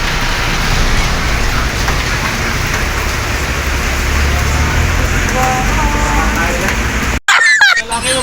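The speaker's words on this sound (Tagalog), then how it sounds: "tuloy-tuloy pa rin nga ang ulan" Heavy rain pours steadily outside a factory during a typhoon, a loud continuous wash of drops that fills the clip until it cuts off abruptly near the end, with brief scraps of voice.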